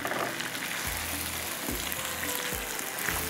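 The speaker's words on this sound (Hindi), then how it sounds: "अब इसको थोड़ा सा भूनेंगे" Chicken and spices frying in a pan for an Afghani chicken gravy give a continuous sizzle and hiss, close and steady, with a few soft stirring thumps and no speech.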